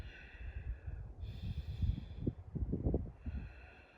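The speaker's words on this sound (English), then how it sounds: "3 more breaths" Slow, deep breaths drawn through the nose and let out during a yoga side-bend stretch, heard close and fairly quiet, with a few snort-like exhales over a faint steady background hum.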